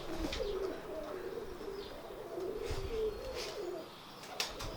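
Red eye pigeons coo in low, rolling, repeated calls, fairly close, with a few faint chirps and a soft rustle scattered among them and no talk.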